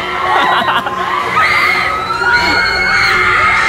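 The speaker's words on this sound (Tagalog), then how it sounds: "Yan, ang dami sumisigaw" Crowd of riders screaming and shrieking on an amusement ride, many overlapping high voices rising and falling continuously and loudly throughout.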